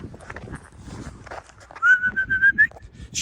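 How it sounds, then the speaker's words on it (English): A bird gives a short, clear whistled call outdoors along a walking route toward Falkirk, rising out of quiet background rustle with a few softer chirps before it. "I need to know what name of the bird that is"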